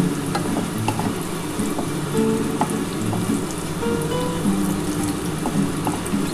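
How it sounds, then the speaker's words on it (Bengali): Potatoes fry with cumin seeds in hot oil, a close, constant sizzle broken by light scraping and occasional clinks as they are stirred. "এই যে জিরেটার সাথে এবার আলুগুলোকে ভালো করে ভেজে নিচ্ছি।"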